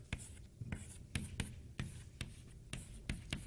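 Chalk or marker writing on a board in a university mathematics lecture, a quiet steady run of short taps and scratching strokes, no talking.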